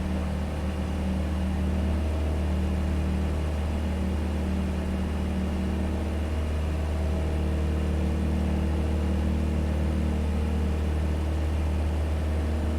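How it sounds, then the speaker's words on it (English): Piper Cherokee single-engine propeller aircraft in flight, a loud, steady low drone of engine and propeller heard from inside the cabin, unchanging throughout. "Just heard the pitch and the engine change a little bit."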